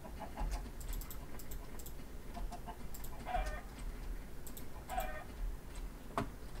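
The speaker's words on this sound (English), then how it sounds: "Hello, chickens." Soft, repeated clucking from a few chickens in the video game Minecraft, scattered through a quiet ambient game soundscape with occasional clicks.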